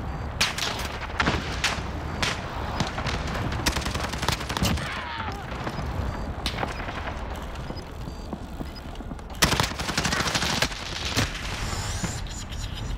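Constant dense gunfire in Call of Duty: Modern Warfare, with rapid automatic bursts and heavier booming shots layered over one another, loud and unbroken from start to finish.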